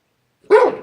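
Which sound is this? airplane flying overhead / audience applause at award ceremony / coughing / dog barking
dog barking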